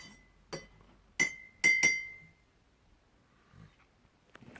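A spoon clinks against a glass of Greek mountain tea as liquefied honey is stirred in, with several sharp ringing taps close by, then quieter faint knocks.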